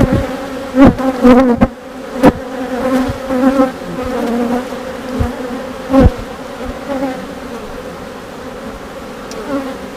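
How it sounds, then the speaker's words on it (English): A dense, close hum of many honeybees buzzing inside a hive, loud and continuous, with occasional sharp knocks and clicks. "the bees are cleaning it out"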